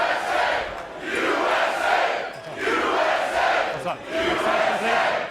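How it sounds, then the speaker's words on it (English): A home crowd at a pool match chants its team and nation name in loud, rhythmic swells, a dense roaring mass of voices repeating in waves through the span. "He's got the home crowd chanting the name of their team, their nation."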